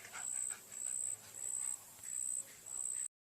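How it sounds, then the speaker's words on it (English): An elderly family dog over 11 years old panting steadily nearby, five rhythmic bursts of breathy huffs in about three seconds, with a faint high whine under each breath. "This is my dog, Baby."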